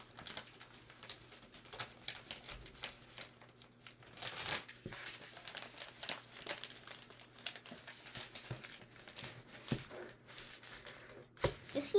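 Paper being creased and folded by hand into an origami pop-it grid, quiet crinkling and soft papery rustles coming in irregular bursts close to the listener, with a faint low hum underneath.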